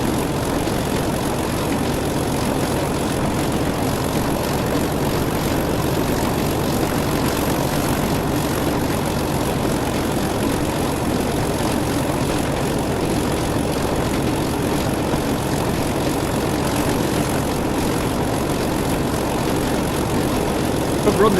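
Old diesel locomotive at full throttle in Train Sim World 6, a loud, steady engine roar heard from outside, droning continuously with no talk.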